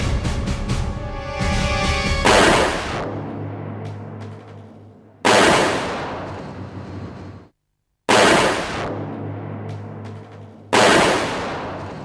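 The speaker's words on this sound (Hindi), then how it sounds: "सारी गोलियां निशाने पर लगी है" Several sharp, loud gunshots ring out one at a time, each followed by a long echoing decay, with a short silent gap between two of them.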